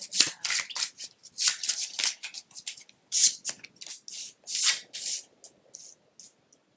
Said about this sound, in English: I just shuffled the oracle decks